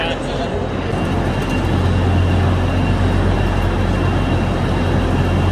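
A steady low rumble of an idling train fills a busy railway station in England, with a constant drone and crowd noise around it.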